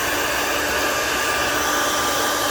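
A hair dryer blows clay crumbs off a pottery piece, a loud, steady, close-up whooshing roar that stays constant throughout with no talk.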